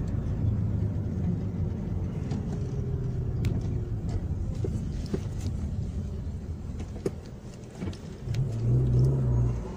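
Car engine in an industrial area as the vehicle slowly reverses, a steady low idle rumble close by with light road noise, no talking.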